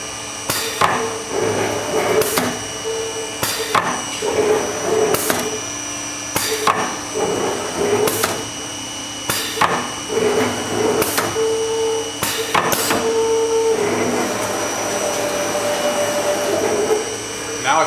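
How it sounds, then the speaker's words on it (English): An automatic bookcase welding machine runs a seam along the side of a steel bookcase, giving repeated sharp clanking hits at a steady pace over a continuous mechanical hum and buzz, loud and close. "It's going to continue welding the side."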